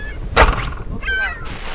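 A bird in the Survivalcraft video game lets out a loud, harsh squawk, then a second, thinner honking call about half a second later, over a steady background hum.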